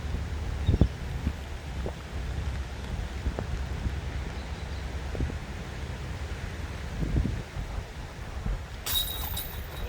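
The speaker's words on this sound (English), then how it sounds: "So wind's gusting high, a little bit sheltered here, but not by all means out of the wind" Strong gusting wind with rain on an outdoor disc golf course in Adelaide, South Australia, a low rumbling buffet against the microphone that rises and falls, with a few dull knocks and no talking.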